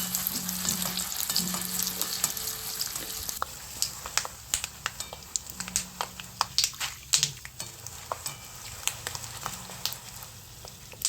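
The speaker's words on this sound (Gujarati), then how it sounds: "તો હવે આપણે જો સિંગદાણા તળી લેવાના છે" Peanuts fry in hot oil for a Gujarati mamra chevdo snack, a steady sizzle broken by sharp crackles and pops and occasional stirring scrapes, close up with no talking.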